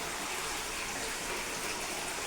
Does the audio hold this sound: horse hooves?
no